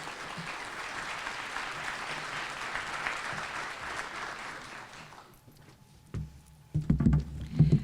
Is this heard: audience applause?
yes